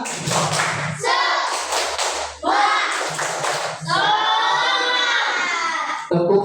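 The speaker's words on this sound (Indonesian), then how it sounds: "Tepuk satu, tepuk dua, tepuk tiga." A class of children claps a rhythmic 'tepuk semangat' ice-breaker led by a teacher, with groups of quick claps between loud chanted voices.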